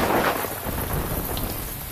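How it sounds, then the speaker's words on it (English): Heavy rain pours down with a rumble of thunder, steady and loud with no voices. "Oh, no! It's starting to rain!"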